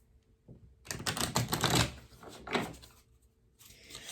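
Moon oracle cards pulled and shuffled from a deck, a close, soft run of papery riffles and slides in a few short bursts, quiet apart from the card handling.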